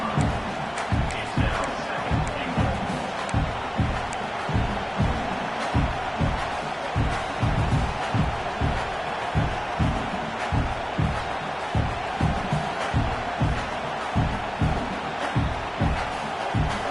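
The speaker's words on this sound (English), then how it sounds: "the crowd really making some noise now, trying to help out this defense to get this stop near the goal line" A football stadium crowd roars continuously as the home defense tries to make a goal-line stop, a loud, dense wash of cheering with rhythmic thumping pulses running under it throughout.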